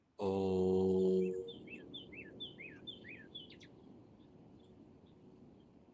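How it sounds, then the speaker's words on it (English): Birds chirp and sing outdoors in quick, repeated high calls, entering just after a loud sustained droning tone fades out during a meditative session, then continuing over a soft steady background. "Did you see the birds joining in? The birds wanted to play along in the meditative state."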